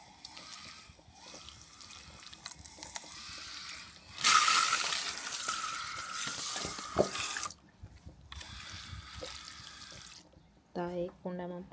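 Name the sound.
water being poured into tulsi plant pots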